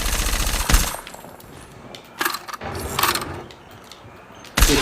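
Revolver gunshots in the mobile video game Call of Duty Mobile sound as loud, sharp bursts at irregular intervals, with gunfire rattling between the shots.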